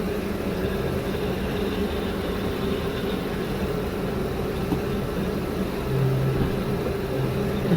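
A WorkHorse W22/W24 motorhome chassis engine runs at a steady idle after a power steering fluid and filter change, a constant low rumble with slight unevenness and a brief swell near the end.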